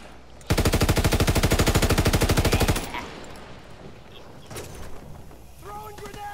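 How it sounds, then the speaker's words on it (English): Heavy machine-gun fire in Call of Duty WW2 hammers out as one long, loud, rapid burst of evenly spaced shots lasting a couple of seconds, then gives way to quieter battlefield noise, scattered distant sounds and faint voices. "Taking heavy fire."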